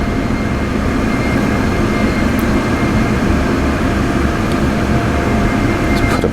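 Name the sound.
F-16 jet engine while taxiing, DCS video game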